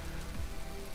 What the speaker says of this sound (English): I'm sure it used to be F2 got rid of or stopped the rain